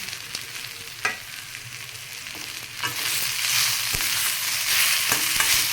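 Chopped tomatoes tipped into browned onions frying in a pan for egg masala, a couple of thuds and scrapes as they go in, then the sizzle swells loud and bright and holds steady with occasional stirring.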